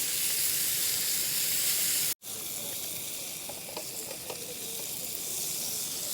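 Thin bacon sizzles on a Fire Maple camping stove, a steady close hiss of frying fat running throughout with a brief dropout and faint crackles.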